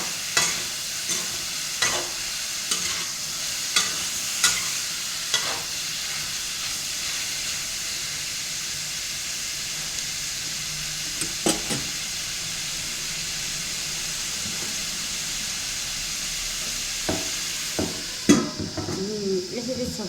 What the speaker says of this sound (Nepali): प्याज हाल्ने अनि मासु हाल्ने अनि एकछिन भुन्ने अनि छोप्ने, छिटो पाक्छ यसरी